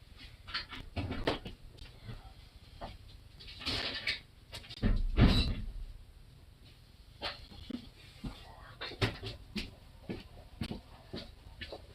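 A husky pants close by in uneven, breathy bursts, with a few louder snorts and huffs scattered through. Faint background noises and movement sit around the panting.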